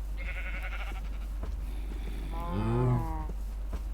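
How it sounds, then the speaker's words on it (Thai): A Minecraft cow lets out a single drawn-out moo over a steady hum, preceded by a brief higher bleating call. "ไอ้วัวโง่"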